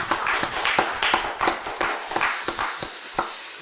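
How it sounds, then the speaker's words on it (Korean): A church congregation claps at a Friday late-night worship service, a quick run of distinct, fairly close hand claps in an uneven rhythm that thins out toward the end. "하나님께 영광의 박수 올려드립니다"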